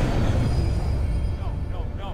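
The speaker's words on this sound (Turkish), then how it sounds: "Yoksa tren mi geçti?" A train rolls past in Hitman Absolution with a dense, heavy rumble, and thin metallic wheel squeals rise near the end as the noise slowly eases off.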